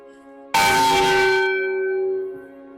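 A single deep church bell strikes once, loud and close, its resonant hum ringing on and slowly fading over a couple of seconds.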